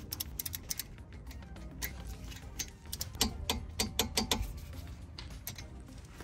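Ratcheting clicks from a torque wrench tightening a bolt to 25 newton meters on the front brake of a 2018 Vauxhall Mokka. Quick runs of sharp, close ticks come in bursts, denser toward the middle, over a low background hum.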